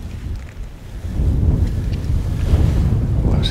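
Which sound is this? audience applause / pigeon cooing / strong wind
strong wind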